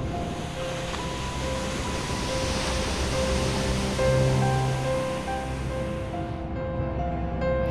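Sea waves at Kkotji beach near the Halmi and Halabi rocks make a steady, full wash of surf, a continuous hiss and rumble that holds even throughout and then thins at the end.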